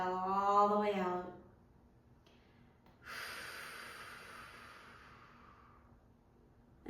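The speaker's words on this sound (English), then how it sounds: "And then slow exhale all the way out" A slow, deep exhale during guided meditation breathing, a soft airy rush that starts abruptly near the middle and fades gradually. A brief voiced sound comes before it.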